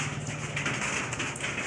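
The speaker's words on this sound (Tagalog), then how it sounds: "malakas ang ulan" Heavy rain pouring down in a steady, dense hiss close by, continuous throughout with no voices.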